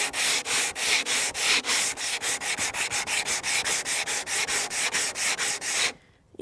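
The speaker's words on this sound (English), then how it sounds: "start off with quite a rough grit to get off all the really hard, tardy bits off" Rough-grit sandpaper scrubbing paint and glue off a rusted mirror, about two dozen loud, rhythmic back-and-forth rasping strokes up close, stopping abruptly near the end.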